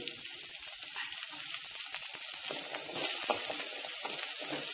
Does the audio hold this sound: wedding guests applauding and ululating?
no